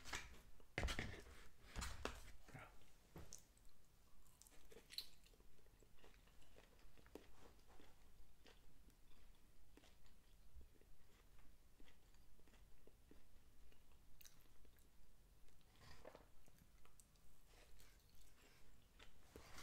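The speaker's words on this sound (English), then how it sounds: "Brave man to wear a white shirt and a tie eating pizza." Close, quiet chewing of Little Caesars Quattro pepperoni pizza, with soft rhythmic bites and mastication repeating steadily throughout and an occasional sharper crunch, no talk.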